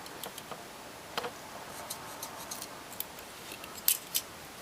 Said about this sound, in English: look at the scissors right here, significantly larger.